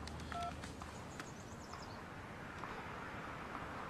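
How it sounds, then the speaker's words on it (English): A few quick electronic dialing tones beep near the start, faint over a steady background hiss, then the tones stop. "What number are you even dialing right now?"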